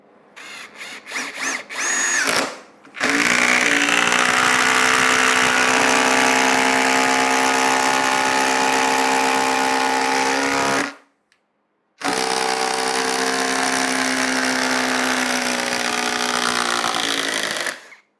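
A Ryobi brushless impact driver drives a 6-inch lag screw into wood, starting with a few short bursts, then a loud sustained buzzing hammer that runs for about eight seconds, pauses briefly, and resumes for another six seconds, with no talking.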